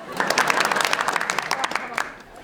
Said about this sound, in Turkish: Bir alkış daha